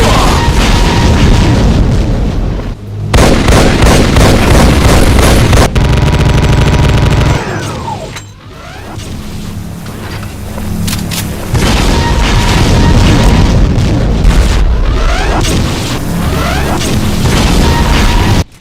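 Demon Tech BFG shots in a Doom mod blast in loud, heavy, booming explosions, one after another, with crackling bursts and rumbling tails across the whole stretch, no speech.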